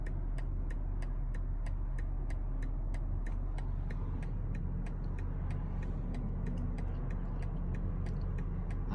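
Road traffic rolls past an intersection as a steady low rumble of engines and tires, with a regular, faint clicking ticking through it the whole time and no one speaking.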